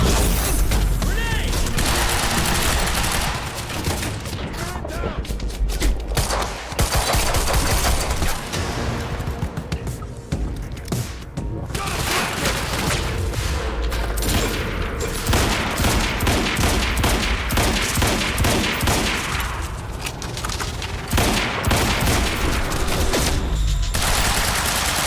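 Dense gunfire erupts in the Quantum Break video game, rapid automatic bursts and booms stacking over a loud, busy combat mix that runs continuously throughout.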